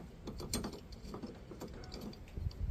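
Bolts on a hitch anti-rattle clamp for a 3-inch receiver are tightened, giving a run of soft ratcheting clicks and small metallic mechanism sounds, close and fairly quiet, with no talk.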